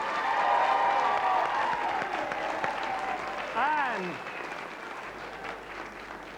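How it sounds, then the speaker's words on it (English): Studio audience applause on the game show On Your Marks, a dense burst of clapping that gradually fades while a host speaks over it. "Give them a round of applause."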